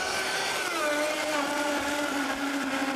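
A blender running steadily as it purees cucumber gazpacho, a loud continuous whirring whine with a slowly shifting pitch, heard alone throughout.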